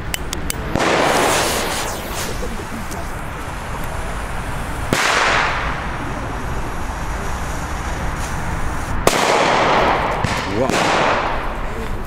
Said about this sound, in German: Als nächstes gibt es die Tiger Bomb C-Böller von Funke.